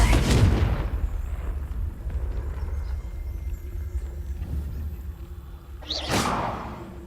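Confringo fire spell cast in Hogwarts Legacy, a loud booming burst at the start, a low rumble sustained underneath, then a sharp whooshing flare near the end.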